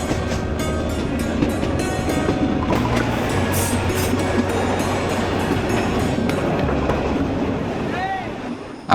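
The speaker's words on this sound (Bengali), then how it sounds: "ট্রেনে যাত্রা করছি" A steady, loud rumble of a train running on rails, heard from inside a passenger carriage on a Bangladeshi railway journey toward Burimari, with a continuous broadband roar throughout.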